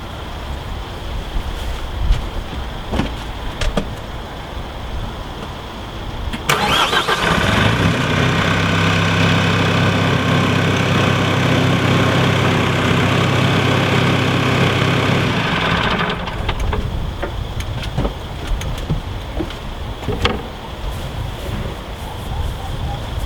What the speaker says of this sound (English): to tip the rear deck with the hydraulic tipping cylinders